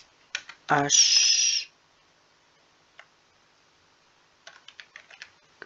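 Computer keyboard typing in short, close clicking bursts separated by quiet pauses, with one brief loud tonal sound near the start.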